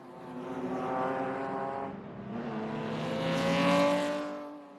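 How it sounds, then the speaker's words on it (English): A Ferrari racing car passes at the Goodwood Revival, its engine note rising as it approaches and then swelling again with a clear pitch sweep as it goes by, moderately close, with no voices. "Ferrari going through"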